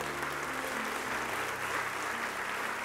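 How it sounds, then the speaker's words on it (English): A congregation clapping in a church service, heard as a faint, dense wash of applause under a low steady hum, with no speech. "If you're gonna clap, do it right."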